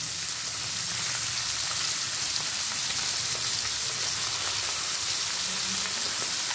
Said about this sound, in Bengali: আমি ঢাকা দিয়ে ভেজে নিচ্ছি।